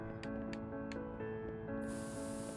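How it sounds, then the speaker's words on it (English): Spray paint tool in the painting game Passpartout: The Starving Artist, heard as a soft airy hiss that swells near the end over quiet background music with a few light taps. "And it looks like we have a spray paint tool."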